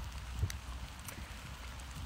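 Steady rain falls outdoors, a dense even patter of drops with occasional louder splashes, continuous and fairly quiet with no talking over it.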